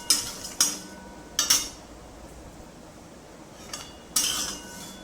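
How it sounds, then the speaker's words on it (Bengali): A utensil clinks and scrapes in a kadai while nutmeg and mace dry roast, a few sharp metallic knocks separated by quiet gaps. "এবার এটাকে আমি কড়ার মধ্যে একটু ভেজে নেব, ড্রাই রোস্ট করে নেব।"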